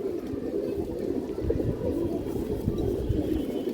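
Pigeons coo softly and repeatedly in a loft of fancy breeds, low rolling calls overlapping in a steady murmur with faint rustling around them.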